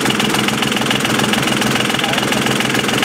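A diesel engine runs at a steady rumbling idle with dense mechanical knocking while its fuel injection pump is being adjusted, loud and close throughout.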